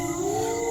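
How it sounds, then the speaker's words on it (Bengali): A brief, sustained wavering howl from a dog or jackal carries as if from a distance, a cartoon sound effect for an eerie night scene by a river ferry ghat. "শুধু দূর থেকে কুকুর শিয়ালের ডাক ছাড়া কিছুই শোনা যাচ্ছে না।"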